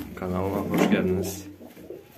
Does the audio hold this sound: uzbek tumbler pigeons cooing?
yes